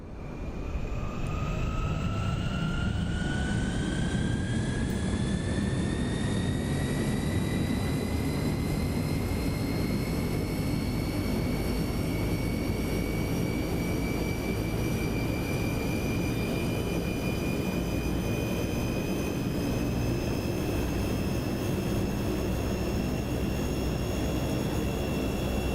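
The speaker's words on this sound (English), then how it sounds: "go to engine number 1 and start up our engine" An aircraft engine starting up in Microsoft Flight Simulator 2024, a loud steady roar with a whine that rises in pitch over the first seconds and then holds, continuous with no talking.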